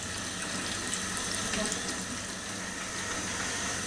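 Chicken strips deep-frying in hot oil for KFC-style crispy strips, a steady dense sizzle and bubbling hiss holding evenly from start to finish with no talking.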